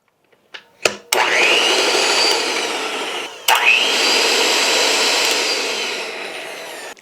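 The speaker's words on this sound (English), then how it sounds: "using an electric mixer, mix it up until it's nice and creamy" Electric hand mixer creaming light brown sugar with room-temperature vegan butter in a bowl, a loud steady motor whir that starts after a couple of clicks, stops briefly, then runs on alone.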